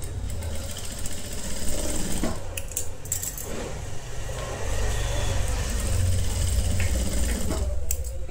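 Sewing machine stitching a halter neck blouse, a steady close mechanical whir running throughout with light clicks and small shifts in level, no voices over it.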